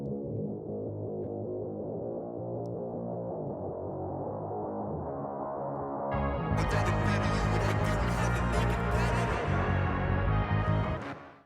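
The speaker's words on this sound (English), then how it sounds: "I picked this guitar sound." An electric guitar played through the Amplitude 5 simulator rings out alone, starting with a thick sustained tone and then shifting about halfway to a louder, brighter, fuller sound.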